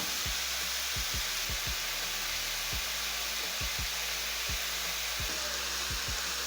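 Meat sears in a single layer in a hot pan, a steady broadband sizzle with no voices, punctuated by a dozen or so sharp pops and spits scattered irregularly throughout.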